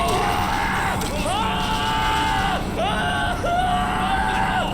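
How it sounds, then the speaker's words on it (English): In the video game Black Mesa, drawn-out screams rise and fall in pitch, several wailing cries in a row over a dense, noisy game soundscape. "That is some screaming."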